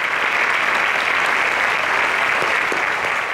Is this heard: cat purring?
no